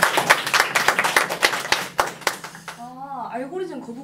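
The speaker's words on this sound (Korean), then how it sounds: "네, 박수 한번 주세요." A small group claps in a classroom at the end of a student's presentation, with scattered, uneven hand claps for about three seconds before a voice begins talking over the fading sound.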